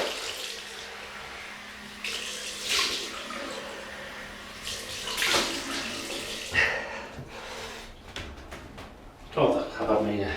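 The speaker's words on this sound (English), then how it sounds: "Right, cold water rinse." Cold tap water runs for a rinse during a shave, splashing and gushing in uneven bursts at close range, with a person talking over it.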